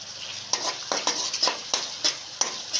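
Garlic, cumin and garam masala paste fries with a steady hiss in a pan while a spoon scrapes through it in about six regular, close strokes.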